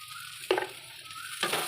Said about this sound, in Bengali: এগুলো সব আমি এবার কড়াই দিয়ে নেব দেখো আমি এইগুলো এবার একটুখানি নেড়ে চেড়ে নেব